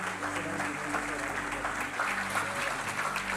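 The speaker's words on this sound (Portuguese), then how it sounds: "vamos aplaudir a Jesus" A church congregation claps together in a continuous, moderately loud patter, with a low hum of music or voices underneath.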